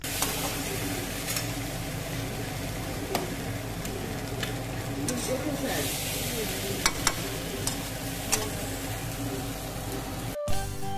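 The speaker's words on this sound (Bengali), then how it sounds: "জিরের গুঁড়ো লঙ্কার গুঁড়ো এগুলো দিয়ে আবার কিছুক্ষণ ভালো করে কষিয়ে নেবে" Gati kochu is sautéed with cumin and chilli powder in a pan, giving a steady sizzle under repeated spatula scrapes and light clinks, before the sound cuts off abruptly near the end.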